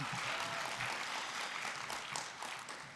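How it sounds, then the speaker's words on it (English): Steady applause from a large convention crowd, a dense wash of clapping that holds for several seconds and fades slightly toward the end. "please give yourselves a round of applause."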